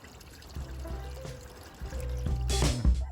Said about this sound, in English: I'll show you this little trickle